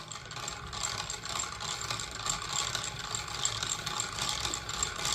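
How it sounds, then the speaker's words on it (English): Hand crank turning on a 125-year-old rope-making machine, giving a steady ratcheting, geared clatter with a mechanical whir that continues evenly and fairly close throughout, without any talk. "So we'll show you this handle as we crank."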